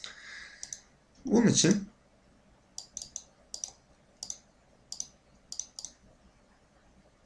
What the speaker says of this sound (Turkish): Sample Topic klasörünün üzerine sağ tık yaparak Set Working Directory'e tıklıyorum.